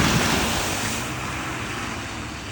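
Floodwater surging and splashing across a flooded residential street at W Lawton St and W Commodore Way, a steady, loud broadband wash of water that tapers slightly over a few seconds, with no voices.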